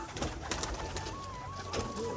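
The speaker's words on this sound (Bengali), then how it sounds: "বাজি পায়রা সব পাগল হয়ে গেছে" Several pigeons coo continuously close by, a soft rolling chorus with a thin whistling tone drifting through.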